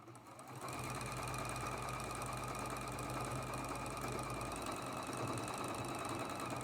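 A sewing machine runs steadily and close up while sewing quilt patches together. Its rapid needle clatter and motor hum start after a brief pause and continue without break, with no talk.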